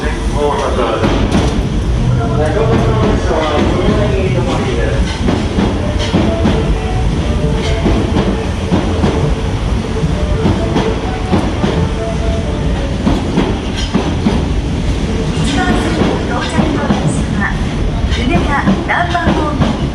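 Osaka Metro Midosuji Line 30000 series train at Shin-Osaka station, with loud continuous rumble and rail clatter of cars moving along the platform, overlaid by station announcements and chimes throughout.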